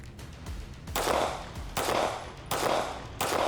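Gunshots fired during a SWAT academy shooting test ring out in four sharp, evenly spaced blasts, each loud and near with a short echoing tail, with no voices heard.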